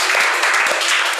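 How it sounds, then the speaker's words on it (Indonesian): Brief burst of loud, close applause from a school audience, dense and continuous clapping with no voices over it. "Boleh dong tepuk tangan buat Bu Karsih."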